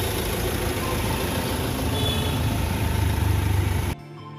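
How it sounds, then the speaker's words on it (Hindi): A used Mahindra Scorpio with a 2.2 litre mHawk CRDI turbocharged BS6 diesel engine and 29,000 km on it idles with a steady, loud, rough drone that cuts off abruptly near the end. "Let's check out the engine sound."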